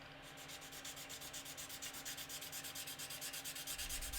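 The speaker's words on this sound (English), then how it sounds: "just sanding in." Fine sanding on a small plastic part of a 1/35 scale AH-6 Little Bird model kit gives a soft, quick, rhythmic rasp of steady back-and-forth strokes, close and quiet, with no talk.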